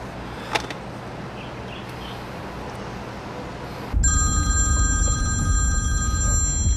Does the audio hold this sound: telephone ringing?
yes